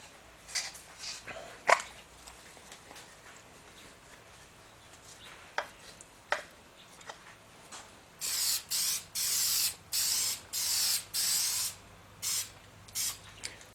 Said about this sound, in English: The next thing we're going to do is we're going to put the penetrant on there.